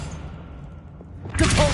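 Descendo spell from the Hogwarts video game: a low, muffled rumble gives way to a short, loud whooshing thud that swells near the end and stays up to the cut.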